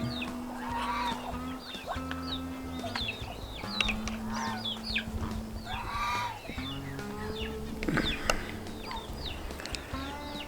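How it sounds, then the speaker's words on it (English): Muscovy ducks on a farm give a busy chorus of soft hisses, chirps and clucking calls, with overlapping calls from several birds scattered throughout over a low outdoor hum. "Bunch of the Muscovies just hanging out."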